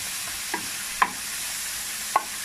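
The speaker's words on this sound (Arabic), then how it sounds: "شوح الفلفل شويه اهو" Peppers sauté in a pan with a low, even sizzle broken by three light stirring clacks at uneven intervals.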